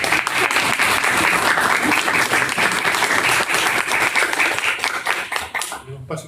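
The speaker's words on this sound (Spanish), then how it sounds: "Damos un aplauso a..." Sustained audience applause fills the room at a Spanish-language talk on noise control, loud and dense throughout, thinning and fading out in the final second.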